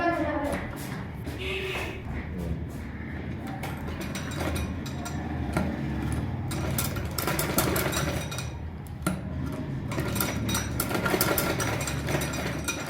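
A sewing machine stitches the neckline of a shirt, a continuous close whir with ticking needle strikes running throughout, mixed with fabric handling noise and a voice talking over it.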